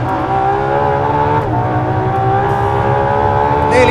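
Ferrari LaFerrari hybrid V12 screaming loud and close as it revs toward nearly 9,000 RPM, a sustained high-pitched wail with rising harmonic tones and a brief shift-like dip midway.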